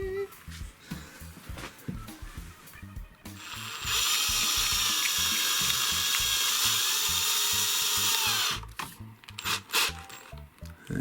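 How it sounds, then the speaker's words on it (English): A power drill backs a screw out of a Panasonic RS-363 cassette deck during belt replacement, whining steadily for several seconds in the middle, with ratcheting clicks and handling noises close by before and after. "wonder if my drill will attach to this."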